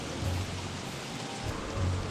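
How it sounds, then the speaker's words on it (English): Steady pouring rain in the survival game Don't Starve Shipwrecked, a continuous broadband hiss with a faint low rumble swelling briefly at a couple of points, heard alone without talk. "now it's pouring rain too."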